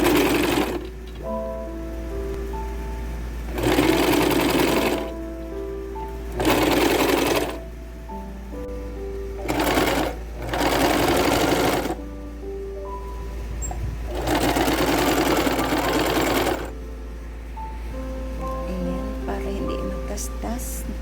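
A portable sewing machine stitches a pillow case in loud, steady whirring bursts of a few seconds each, separated by short pauses, with a low constant hum beneath and a voice speaking between runs.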